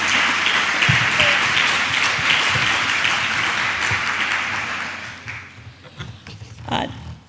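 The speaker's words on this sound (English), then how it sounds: "You can clap for Chiara, she deserves it." Audience applause at a science conference, a loud sustained wash of clapping that thins and fades toward the end, leaving a few scattered claps and faint voices.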